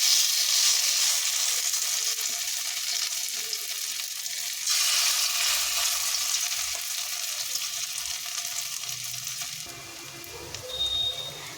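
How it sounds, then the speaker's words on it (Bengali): A second batch of red lentil fritters wrapped in pumpkin leaves is dropped into hot oil and sizzles in a steady, bright frying hiss that eases slightly toward the end. No one speaks. "একইভাবে দ্বিতীয় ব্যাচের বড়াগুলো কিন্তু ভেজে নেব। করে এই বড়াগুলো আমি তেলের মধ্যে ছেড়ে দিচ্ছি।"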